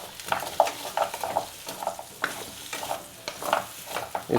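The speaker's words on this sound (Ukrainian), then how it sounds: "Смажимо наші фрікаделічки." Meatballs, partly frozen, sizzle and crackle in a frying pan while being stirred, with repeated scraping strokes and bursts of hissing fat close by, no talking.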